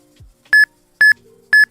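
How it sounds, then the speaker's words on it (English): Three short, bright electronic beeps from a Pokemon video game, evenly spaced about half a second apart, each a clear tone with a slight upward blip at its end, over near silence. "And there's beeps!"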